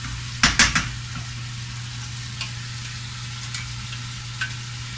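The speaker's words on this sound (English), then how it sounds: "we're going to give this a nice stir" Tomato and vegetable sauce being stirred in a sautéing pan, with a few quick scraping clatters of a utensil near the start over a steady low sizzle and stove hum.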